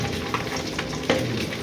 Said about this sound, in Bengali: মাছটা আমার একটু উল্টিয়ে দিতে হবে, কিন্তু মাছ ভাজা বিশাল কঠিন ব্যাপার